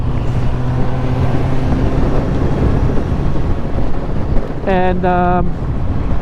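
Heavy wind buffeting the microphone on a motorcycle riding a big German motorway on gloomy day, a loud continuous roar with engine drone underneath and a brief tonal horn-like sound near the end; a voice speaks one word.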